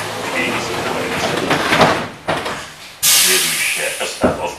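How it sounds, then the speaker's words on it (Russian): The doors of an LVS-86K tram in Saint Petersburg close with a rumbling slide and a sudden loud pneumatic hiss, under a voice and street noise. "Осторожно, двери закрываются."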